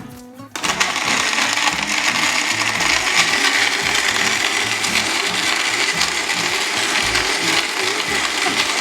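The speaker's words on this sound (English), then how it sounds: "So let's blend all the ingredients up." A blender whirs up a vegan keto peanut butter smoothie, starting abruptly with a click and then running loud and steady with a churning, rattling grind for several seconds.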